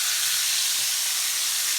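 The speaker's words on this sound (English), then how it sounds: "You gotta let it cook, let it fry for like 3 to 5 minutes on each side" Chicken pieces for a paprika chicken dish fry in a pan with a steady, close sizzle and hiss that holds without a break and with no talking.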